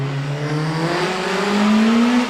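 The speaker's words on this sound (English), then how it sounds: "Paul Meadows on the hill in this 205 GTI." A Peugeot 205 GTI rally car climbs a hill course, its engine note rising steadily under hard acceleration, loud and close.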